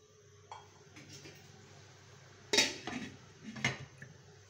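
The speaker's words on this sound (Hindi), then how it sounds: "इतनी अच्छी तरह इसे मिक्स करेंगे। और इसे भी हम तकरीबन 5 मिनट के लिए कवर कर देंगे।" Bhindi masala stirred in a pan with a spoon, soft scraping under a low sizzle, then sharp metallic clanks as a lid goes on, near and fairly quiet.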